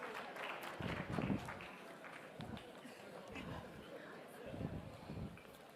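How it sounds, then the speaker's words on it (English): Crowd applause and cheering at a South African political campaign launch for local government elections, a broad wash of clapping with swells near the start and end, mixed with crowd noise and some voices. "Massive round of applause"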